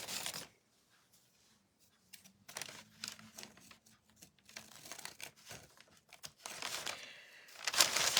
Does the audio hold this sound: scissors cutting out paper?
yes